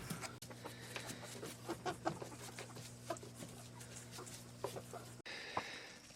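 A small flock of chickens clucks as it is let out in the morning, with scattered soft clucks and calls over a low, steady background hum.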